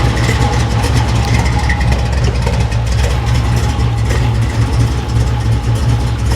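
A Chevrolet Camaro engine idles in a continuous low rumble, close and loud, holding steady throughout with no voices over it.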